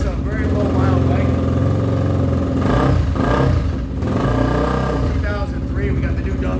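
A 2003 Honda XR250 dirt bike engine runs loud and close, rising and falling through several revs over a throbbing idle.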